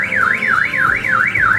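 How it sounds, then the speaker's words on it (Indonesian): A Toyota Agya car alarm in panic mode wails loud and close, its siren tone sweeping rapidly up and down in a steady repeating cycle with no voices. "Dengan lock 3 kali, alarm pasti akan berbunyi."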